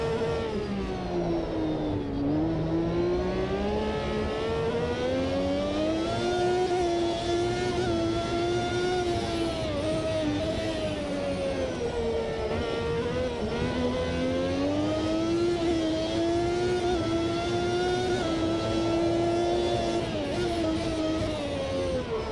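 A high-revving Formula 1 engine in the racing game Automobilista 2 drones continuously at Montreal, pitch rising and falling through gear changes, loud and close with no talking.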